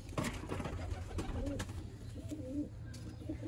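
Sialkoti pigeons coo softly and repeatedly in low, rolling phrases at moderate distance, with faint chirps and steady ambient noise in the background.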